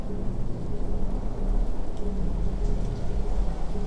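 A thunderstorm sound effect with steady heavy rain pouring over a deep, continuous rumble of thunder, dense and loud throughout with no voices.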